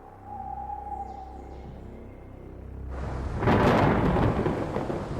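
Thunder during a storm: a quiet tonal hum gives way to a loud, rolling crack and rumble of thunder that swells and lingers, with rain-like hiss underneath.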